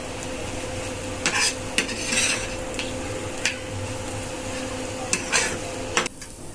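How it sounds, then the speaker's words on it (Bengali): Egg being stirred into sweet potato leaves in a pan, with a steady low sizzle and several sharp clinks of a utensil scraping the pan, loudest near the middle and end. "তো তার আগে ডিমটাকে ভালোভাবে মিশিয়ে দিই, যাতে করে ডিমের ফ্লেভারটা সব জায়গায় থাকে।"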